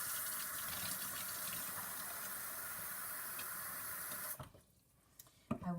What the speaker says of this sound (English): I will fill this up just a little bit with some warm water